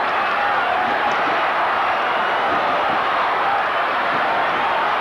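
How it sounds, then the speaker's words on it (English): A Geelong football crowd at Kardinia Park keeps up a dense, steady roar of cheering from across the ground. The noise stays broad and unbroken, with no single voice standing out. "Well, the Geelong crowd have come to life, Pete."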